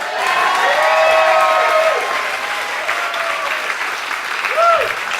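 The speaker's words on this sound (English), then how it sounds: "Can I have a round of applause?" Applause from an audience fills the space, a dense steady clatter of clapping that slowly thins, with a few faint tonal sounds over it.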